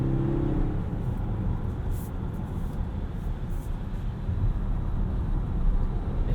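A 2018 Volvo XC60 T8 plug-in hybrid pulls hard at high revs, heard from inside the cabin as a steady, loud, dense rumble of engine and road noise without speech.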